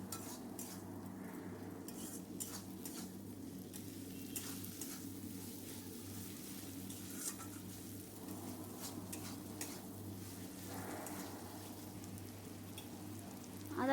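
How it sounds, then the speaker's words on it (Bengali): Ginger garlic paste frying in a pan for chicken curry gives a steady low sizzle with intermittent stirring scrapes of a utensil, moderately quiet and close, with no talking. "আদা রসুনটা আমার ভালোভাবে কষানো হয়ে গেছে।"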